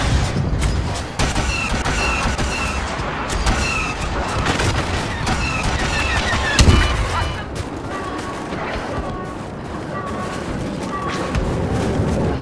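Blaster and rifle gunfire in a Star Wars Battlefront battle, dense overlapping shots and booms with whining laser-like tones, loud and continuous throughout.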